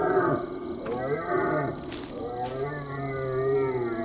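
A sick-sounding elk calls in a video game: strained, warbling, moaning howls rise and fall continuously, with a few brief crackling bursts mixed in.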